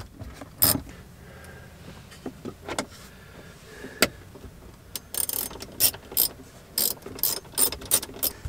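A ratchet socket wrench clicks in quick bursts while dash bolts are removed inside a 2017 Jeep Wrangler, close and fairly loud, with scattered single clicks first and denser rapid ratcheting toward the end.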